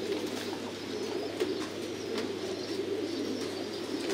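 Pigeons in a Thai-style raised coop coo in low, repeated rolling calls, moderately close, with a few faint chirps over a steady background hum.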